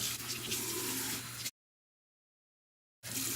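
Running tap water splashes steadily into a sink as a face is rinsed with lukewarm water, a close hiss that cuts out abruptly to silence for about a second and a half before resuming.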